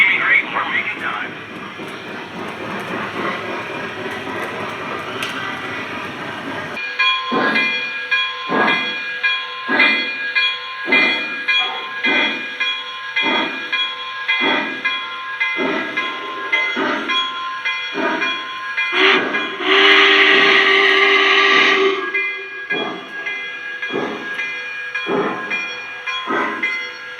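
A Lionel Visionline Hudson #5403 model steam locomotive chuffs in a steady rhythm, hissing steam throughout, with a sharp whistle blast partway through; a voice talks briefly at the start.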